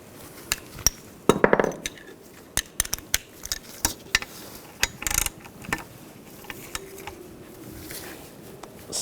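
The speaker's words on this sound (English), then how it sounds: "I'm gonna tighten that bolt down." A bolt on the turbocharger of a 2009–2017 Volkswagen Tiguan is tightened with a ratchet: sharp metallic clicks and clinks come in irregular bursts, close up, with short pauses between.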